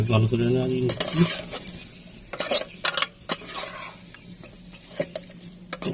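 Noodles are stirred and tossed in a pan with a metal utensil. The close clinks and scrapes come in irregular bursts over a soft sizzle, and there is a brief tonal sound at the start.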